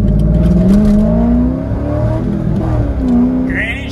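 Cheap Corvette engine revving hard and close, its exhaust note rising and falling through several pulls, with a brief higher whine near the end.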